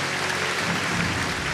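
Audience applause in an arena at a KFPS Friesian stallion show as a stallion leaves, a dense steady burst of clapping from a crowd, moderately loud and continuous.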